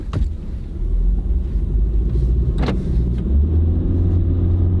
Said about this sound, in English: Now, let's see what the CVT can do.